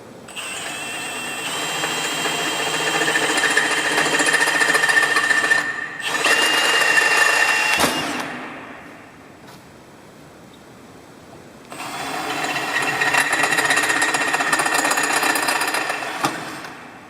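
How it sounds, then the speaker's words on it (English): A number 7 drill boring through a pre-drilled pilot hole while mounting a Kobalt table router on a Delta table saw, a steady mechanical whir running in long stretches, cutting out briefly around eight to twelve seconds, then resuming loud and close. "I'm going to drill the bore with a number 7 drill"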